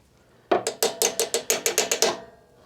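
On a Honda HRB216 push mower, the fuel valve is turned with a rapid run of about a dozen crisp, close ratcheting clicks lasting under two seconds.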